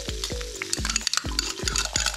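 Garlic frying in a pan for smoky chicken liver pate, a close sizzle broken by repeated rhythmic stirring strokes and light scrapes of utensil against the pan, with no one speaking.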